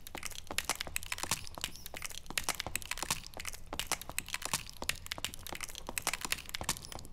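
Crunchy skulls crackle and crush underfoot in a video game, a dense, continuous run of sharp brittle cracks and crunches with rapid irregular footstep rhythm, loud and close, with no talking.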